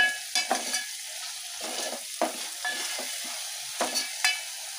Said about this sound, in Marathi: दोन 3 मिनिटाची परतून घेते।